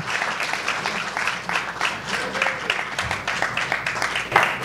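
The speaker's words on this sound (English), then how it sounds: "Let's have a big round of applause for Duane Trammell" Audience clapping for a panel member at a film project event, a moderate round of applause with pulsing loudness and voices mixed in underneath.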